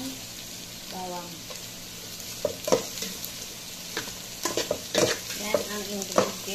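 Garlic fries and sizzles in a pan for papaitan, a steady hiss broken by clattering stirs and scrapes of a utensil against the pan, close and fairly loud.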